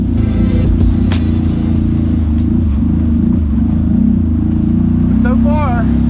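A CFMoto ZForce 950 Sport G2 UTV is ridden off-road, with a loud, continuous engine rumble and road noise throughout and a brief faint whistle-like sound near the end.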